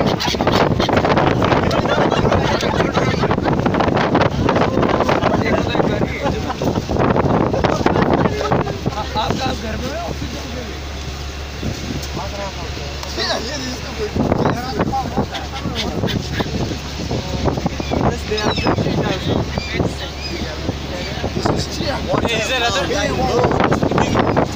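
Wind buffets the microphone over the rumble of a boat moving across water, while people talk loudly throughout.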